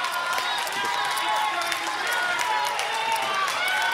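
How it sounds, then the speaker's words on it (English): Fans at a televised World Poker Tour table cheering and shouting after a full house wins a hand, a loud crowd roar mixed with clapping that holds steady throughout. "And the Blue Boys cheer."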